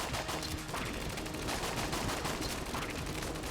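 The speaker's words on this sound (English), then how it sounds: "Keep shooting." Rapid bursts of gunfire from the guns in the roguelike shooter Enter the Gungeon, a dense continuous barrage of shots that stays loud and steady throughout, with no talking.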